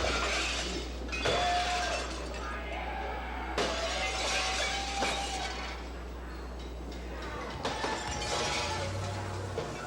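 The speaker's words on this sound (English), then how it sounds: "More than 100 inmates in the West Wing of Oakalla smashed windows, furniture, and screamed obscenities at guards and police" A prison riot in the West Wing of Oakalla, with inmates smashing windows and furniture: glass shatters and crashes repeatedly in a noisy, reverberant space under a murky, distant roar of voices.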